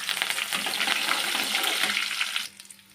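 Curry leaves dropped into hot oil with golden-browned chana dal sizzle and crackle loudly in a pan, a steady frying hiss that cuts off sharply near the end.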